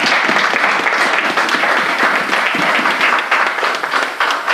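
Dense, sustained applause from a church congregation during a French-language sermon, many hands clapping at once in a continuous loud wash that fills the room from start to finish.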